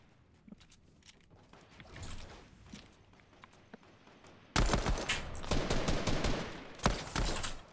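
Rapid bursts of gunfire in a Fortnite duo arena match crack out close and loud, starting sparse and faint then turning into a dense, sustained barrage of overlapping shots.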